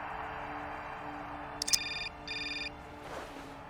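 A telephone rings in the adventure game Syberia, sounding as two short, bright electronic ring bursts over a quiet low hum, fairly soft and alone without talk.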